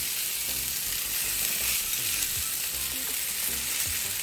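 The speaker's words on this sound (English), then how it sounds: "so that I can use this pan to fry the rice." Rice, about two cups, frying in a pan for a pineapple bowl with sausage, giving a steady close sizzle with soft stirring scrapes throughout and no voices.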